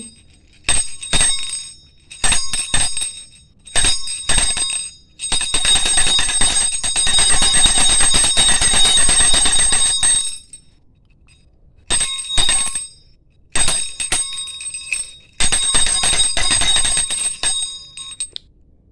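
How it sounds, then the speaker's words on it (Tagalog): A bright metal sacristy bell rings in quick repeated bursts, some short, one long sustained trill, with brief silences between, close and loud. "bumili ako ng bell na ganito. Kasi tingnan nyo naman oh, parehas ng tunog ng bell sa simbahan"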